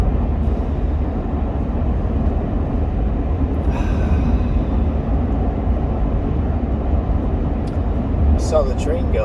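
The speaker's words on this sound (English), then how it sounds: "Saw the train go by." A train rolls past with a steady, loud rumble and clatter of rail cars that fills the whole stretch, with faint brief higher squeals near the end.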